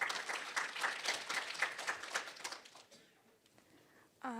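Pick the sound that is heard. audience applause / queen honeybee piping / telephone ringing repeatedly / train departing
audience applause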